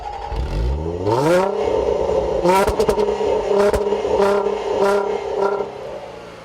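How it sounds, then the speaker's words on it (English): A supercharged V6 in a 2014 Range Rover Sport revs up from idle, its supercharger induction whine climbing and then holding high for several seconds, close and loud. "I'm getting mainly the induction noise of the Range Rover supercharger"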